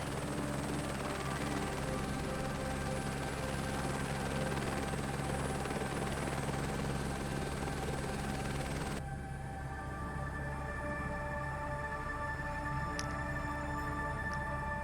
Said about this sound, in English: I don't want this helicopter ride to end.